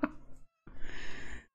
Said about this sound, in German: Die Katze flippt hier gerade.